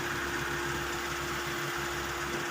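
A 1995 Mitsubishi Lancer engine, revived after sitting in storage with a fuel pump problem, runs at a steady idle, a continuous hum with a constant tone and slight vibration, close by and uninterrupted.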